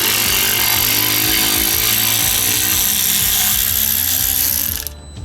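A battery-powered ratchet spins steadily at close range while removing a part from a Volvo Penta SX-M stern drive prop shaft. It gives a loud, continuous mechanical whir with clicking texture and cuts off abruptly near the end.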